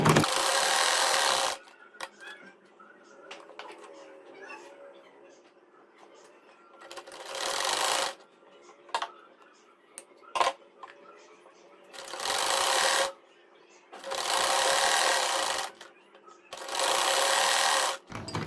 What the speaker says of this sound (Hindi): अब मैं इसको यहाँ पर सिलाई रखकर लगाऊंगी